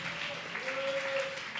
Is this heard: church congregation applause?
yes